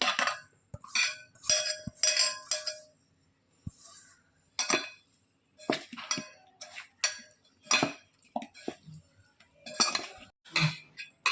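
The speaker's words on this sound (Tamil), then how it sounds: "எல்லாத்தையும் போட்டு நல்லா பிரட்டிக்கலாம்" Chicken being tossed by hand or spoon with chicken masala and ginger garlic paste for Chicken 65, giving close, irregular clinks and scraping taps against a bowl in short bursts with brief pauses.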